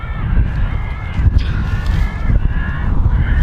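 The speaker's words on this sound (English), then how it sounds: "I think that was a bird prevention system." An airport bird prevention system plays loud crow-like caws over a steady low rumble of wind and engine noise, repeated calls at a distance.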